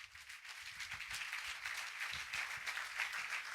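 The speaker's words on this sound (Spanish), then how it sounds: "Le dan un fuerte aplauso a Jesús." Sustained applause from a church congregation, quiet and distant-sounding, a continuous patter of many hands clapping without letup and no speech on top.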